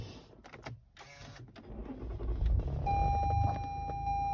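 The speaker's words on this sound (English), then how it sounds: "And we'll try to start the car." A 2018 Toyota Highlander starts up after a few clicks and whirs, its engine catching and settling into a steady close idle while a high chime tone sounds from the cabin.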